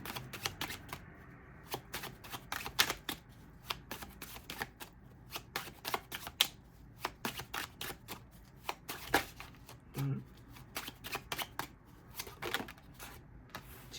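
Tarot cards being shuffled by hand, rapid close riffles and flicks in irregular bursts with short pauses between, no voices.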